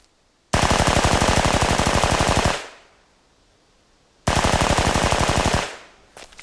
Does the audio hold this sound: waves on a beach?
no